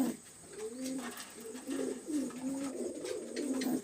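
Pigeons kept for sale in Khulna coo repeatedly and close by, a run of soft, throaty rolling calls that rise and fall in a steady rhythm with no talk.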